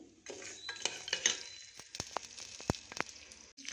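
Roasted peanuts dropped into hot oil and stirred in a pan, a quiet sizzle with repeated sharp clinks and scrapes of a utensil against the metal.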